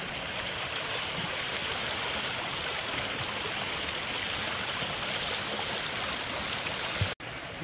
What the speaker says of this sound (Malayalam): ഇത് എവിടെ നിന്നാണ് ഈ വെള്ളം ഇങ്ങനെ വരുന്നതെന്ന് നമുക്ക് കണ്ടുപിടിക്കണം അല്ലേ